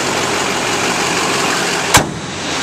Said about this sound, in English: This truck sounds great and it runs smooth.